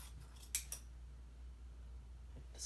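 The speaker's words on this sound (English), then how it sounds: "you're gonna cut right down the line" Scissors cutting down a line through folded T-shirt fabric, giving two quick crisp snips close by followed by a fainter cut near the end, with no talking.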